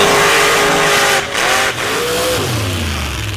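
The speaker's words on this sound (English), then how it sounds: "I mentioned Paul Hahn and Chasing Trouble, that 2000 Chevy S10 with a 572 cubic inch big block Chevrolet and a 1471 high helix blower on top." A 2000 Chevy S10 drag truck with a blown and injected 572 cubic inch big block Chevrolet and a 14-71 high helix blower roars loudly at a drag strip, engine revving up and down in pitch with a brief dip midway.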